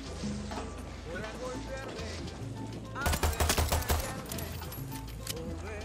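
A rapid burst of gunfire in Far Cry 6, a quick string of about half a dozen sharp shots in the middle of the clip, loud and close, over background music and game sounds with speech nearby.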